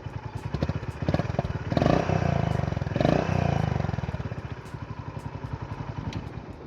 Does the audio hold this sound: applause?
no